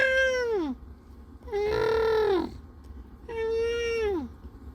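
A cat meows three times, long tonal cries each about a second, the middle one loudest, close and clear over a faint background hum.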